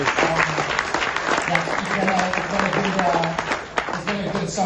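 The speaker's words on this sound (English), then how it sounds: "round of applause to everybody" Audience applause fills a business event hall after a thank-you, steady dense clapping throughout with some voices mixed in, tapering slightly near the end.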